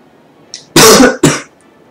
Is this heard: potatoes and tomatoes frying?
no